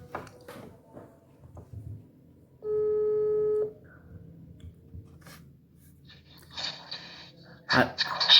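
A single steady telephone ringing tone sounds for about a second during a call being placed for a podcast, in the middle of quiet shuffling and breathing, followed by louder rustling near the end.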